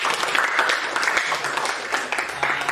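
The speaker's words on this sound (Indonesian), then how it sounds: "Kita beri tepuk tangan untuk kelompok 1" A classroom claps for a student group that has just presented on covalent bonds, brief steady applause from a room of students with a few faint voices mixed in.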